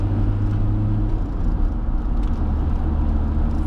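A car engine labors while accelerating in fourth gear, a loud, steady low drone with a faint rising whine heard from inside the cabin, without talk.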